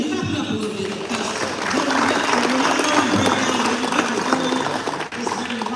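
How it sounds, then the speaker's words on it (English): An audience clapping along in a dense, steady wash of applause that swells and holds at moderate level, with faint talk mixed in. "let's take that in and clap it up a little bit"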